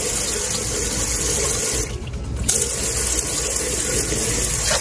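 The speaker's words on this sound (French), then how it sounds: "Et tu ouvres que l'eau froide." Cold water runs steadily from a tap fed by an Osculati water pump in a camper van, a continuous close splashing flow with a brief dip in the middle.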